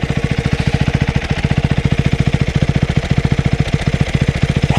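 A light motorcycle engine runs close by with a steady, rapid, even thumping pulse throughout, loud and unbroken, no voices over it.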